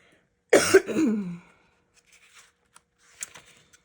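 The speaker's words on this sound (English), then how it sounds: "You'll have to excuse some coughing today" A single harsh cough close to the microphone, followed by quiet rustling and small handling sounds.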